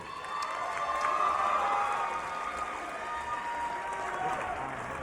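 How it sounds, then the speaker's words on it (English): A crowd applauds and cheers after a women's featherweight Wu Lin Feng kickboxing bout in Las Vegas, a dense, steady roar of clapping and voices that fills the whole stretch. "And also a round of applause for her challenger"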